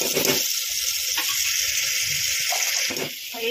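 Onion and tomato fry in a pan with a close, steady hissing sizzle and a few soft bubbling pops, with no talk.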